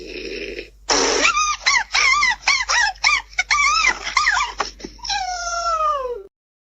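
A dog's howls and whimpers come from a played video clip, a run of short rising-falling yelps and cries, loud and close, ending in a long drawn-out wail with no talking.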